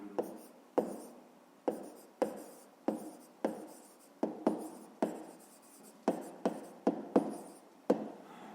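Pen or chalk writing out math figures for a fifth-grade exercise on workers' wages, a series of about a dozen short scratchy strokes in quick uneven rhythm, close and moderately loud, with no talk.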